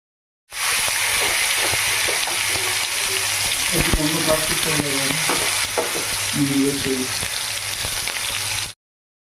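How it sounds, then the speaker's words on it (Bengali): Red amaranth greens stir-fried together with lentil fritters hiss and sizzle loudly in a pan. Stirring scrapes and clatters run through the steady frying noise, close up, while a voice briefly speaks in the middle. "বড়াগুলো দিয়েও খানিকক্ষণ ভালো করে নাড়াচাড়া করে তারপরে নামিয়ে নেব"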